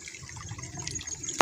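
Water trickling and splashing as a vegetable garden of tomato, eggplant, radish and cabbage plants is watered, a soft, steady pour close by that ends in a brief sharper splash.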